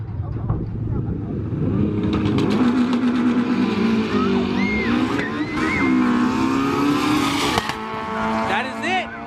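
Loud 360hp Honda Civic 4-door sleeper engine revving hard down a drag strip, pitch climbing through gear shifts with a brief break near the end, constant and close throughout.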